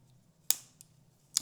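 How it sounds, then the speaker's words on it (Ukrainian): The scissors of a Leatherman Charge multitool snip and click, giving two sharp metallic clicks and a fainter tick between them, close by and quiet in a still room. "гострі, цікаві ножиці"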